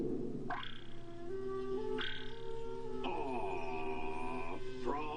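Croaking frog in a Jim Henson Frog Prince puppet film, a few drawn-out tonal calls rising and sliding over a steady low hum, fairly close and clear with no talking.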